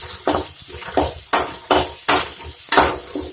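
Stone-crushed ginger and garlic sautéing in a pan for egg kulambu, with a steady rhythm of loud stirring scrapes, about six, over a constant close sizzle.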